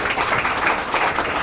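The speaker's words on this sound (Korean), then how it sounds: "여러분 큰 박수 부탁드리겠습니다." Audience applause at a data forum seminar awards ceremony, a loud, dense burst of many people clapping together without pause.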